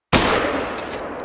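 A single loud .270 rifle shot fires in the hunting video game TheHunter: Call of the Wild, a sharp crack with a long echoing tail that fades over a second.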